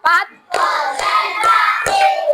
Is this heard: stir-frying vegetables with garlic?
no